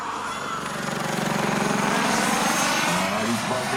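Large RC turbine-powered Bell JetRanger scale model helicopter flying at a flight show, a loud steady turbine whine with rotor chop, close by and continuous, with people talking over it.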